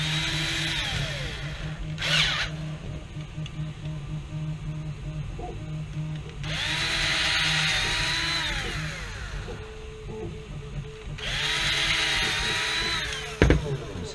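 Small power drill with a 1/8 drill bit boring holes in a Nerf blaster part, three separate whining bursts of a few seconds each, rising in pitch as the motor spins up, separated by quieter pauses with small handling clicks.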